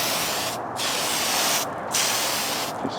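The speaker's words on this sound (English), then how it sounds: "my TS13 clear right there, and we're gonna start shooting" TS13 clear coat sprayed from a can onto a model car outdoors in light wind, a loud steady hiss broken by two brief pauses between passes.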